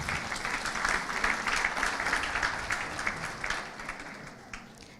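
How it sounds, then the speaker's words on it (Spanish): An audience at a national accreditation congress applauds a newly introduced panelist, a full, steady burst of many hands clapping that holds evenly and then tapers toward the end. "Fuertes los aplausos para ella."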